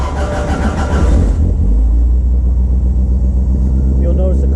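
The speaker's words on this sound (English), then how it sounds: "You'll notice the car starts pretty quickly. Initially, the cold idle is pretty high" Fiat Spider engine starting cold and settling into a high idle, a loud close rumble right from the start that turns into a steady fast idle, with a voice heard near the beginning.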